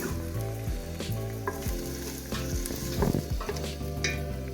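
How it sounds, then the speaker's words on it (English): Onions sauté in hot coconut oil, giving a continuous close sizzle broken by stirring scrapes, with a louder burst of crackle near the end. "we've got some hot coconut oil in here, and we're going to put the onions in, just to saute them until they're a bit glassy"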